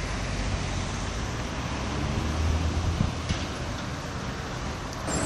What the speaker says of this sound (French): Voilà le port Réunion et son balai de camions. Ça rentre et ça sort.